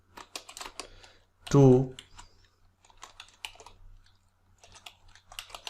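Quick clicking keystrokes on a computer keyboard tap out in short bursts, close and fairly crisp, while someone speaks over and between them.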